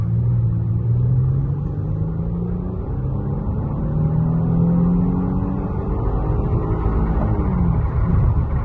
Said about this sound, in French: On va se taper encore une petite accélération pour voir.